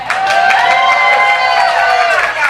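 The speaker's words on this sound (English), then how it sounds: "That's the most enthusiasm for a marriage applause I've ever gotten." Audience at a comedy show cheering and applauding for married people, a dense, loud crowd roar with whoops and claps sustained throughout, no talk over it.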